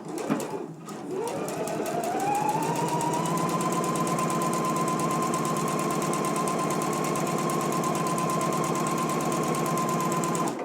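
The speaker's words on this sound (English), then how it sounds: "go to the sewing machine and stitch this in place now" A sewing machine stitches a hem fold in one long, continuous run, its needle ticking rapidly and evenly with a steady motor whine, close and alone after a brief start-up.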